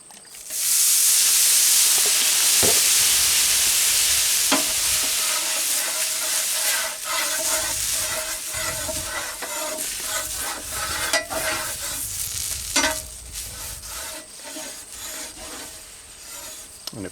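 Biscuits sizzle on a griddle at a forest campsite, a steady loud frying hiss that starts abruptly and runs throughout with light scraping and clinks, no talking.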